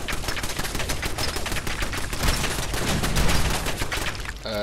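Rapid bursts of gunfire from Fallout 4 combat, a dense run of sharp repeated shots going on for several seconds with no talk.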